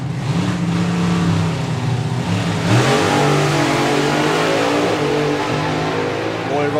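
A supercharged outlaw drag racing car roars at full throttle down the track at a nostalgia drag racing event, loud and continuous, with a brief gear-change dip in pitch midway.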